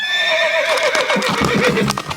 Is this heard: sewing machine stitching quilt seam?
no